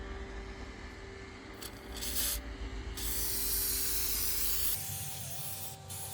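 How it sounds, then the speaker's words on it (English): Linseed oil sprayed onto a Saab 93 makes a steady hissing spray over a low mechanical hum, rising into a longer continuous burst toward the middle before easing off. "I'm gonna spray it with the linseed oil."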